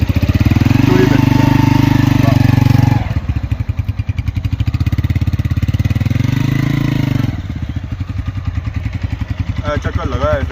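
A Honda CB 125F motorcycle, 2024 model, pulls away in first gear. Its steady, close engine note drops and firms as the clutch engages and then rises again with throttle. Someone talks over it throughout.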